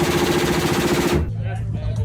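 Rapid gunfire rattles loud and close at an indoor shooting range for about a second, then drops to a quieter echoing tail.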